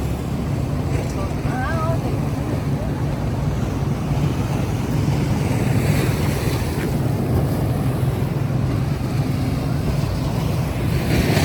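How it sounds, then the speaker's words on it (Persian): A stormy sea roars at the shore, with waves surging and crashing under strong wind buffeting the microphone, loud and continuous, with voices faintly underneath. "خیلی طوفانیه"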